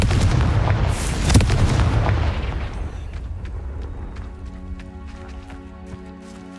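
A Confringo fire-blast spell explodes in the Hogwarts Legacy video game: a loud booming blast with a sharp crack near the start, rumbling and fading into quieter game ambience with faint ticks.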